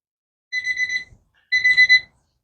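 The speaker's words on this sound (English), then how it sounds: "There's our timer." A kitchen timer going off while pork chops cook, two short bursts of high electronic beeping, close and clear against silence.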